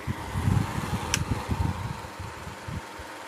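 A Sang 12-inch rotating-grille box fan runs on high at 40 watts and 1250 RPM, a close, steady whooshing hum with a slightly pulsing low rumble.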